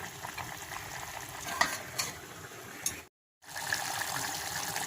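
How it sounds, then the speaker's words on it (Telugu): Chicken gravy curry with masala cooks on a low flame, a steady soft sizzle and bubbling with stirring scrapes, broken by a brief gap of silence near the end before the simmer resumes. "స్టవ్ని ఇప్పుడు లో ఫ్లేమ్లో పెట్టి ఉడికించుకుందాం."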